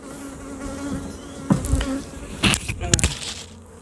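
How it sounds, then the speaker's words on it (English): Honey bees buzz around an open beehive as a box is set on top, a soft steady hum with a few louder passes and knocks close by. "we've already got bees coming up into it."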